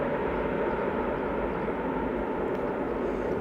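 An airliner touching down at Leeds Bradford Airport roars under reverse thrust, a steady, broad, distant rush that holds evenly throughout.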